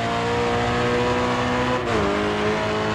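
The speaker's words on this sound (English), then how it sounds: "Car sputtering, you can hear it." A race car engine in the Grid 2 racing video game drones loudly and steadily, then dips and stumbles briefly before its pitch slides back down and carries on, with no talk over it.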